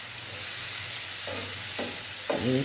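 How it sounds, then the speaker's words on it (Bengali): Fish and spice paste frying in a pan give a steady sizzle, with a few scraping stirs toward the end and one louder stroke at the close. "মাছটা আমি একটু ভেজে নেব। মশলাটা ভালোভাবে ভুনে নেব।"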